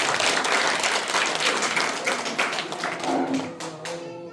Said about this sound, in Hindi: भाई विशाल चौहान जी, इतने नौजवान प्रधान भी कम देख लोगे आपने, एक बार जोरदार तालियां बजाइए।